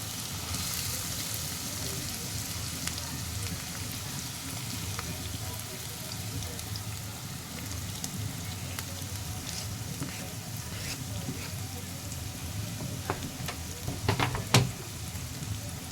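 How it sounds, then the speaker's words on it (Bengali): Chopped onion and green chilli frying in hot oil for an aloo chilli dish: a steady, dense sizzle runs throughout, with a few sharp clatters of stirring near the end. "এখানে পেঁয়াজ কুচি আর কাঁচা লঙ্কা কুচি দিয়ে দেব সবগুলো ঢেলে"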